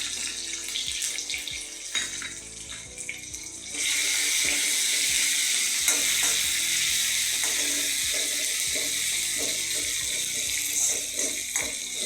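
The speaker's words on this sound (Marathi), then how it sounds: "तेलात आलं लसूण चांगलं भाजून घ्यायचं." Ginger and garlic frying in hot oil with cumin and curry leaves for a banana flower curry: a soft hiss that swells into a loud, steady, bright sizzle after a few seconds and holds to the end.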